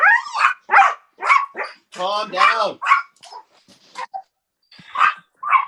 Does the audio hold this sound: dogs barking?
yes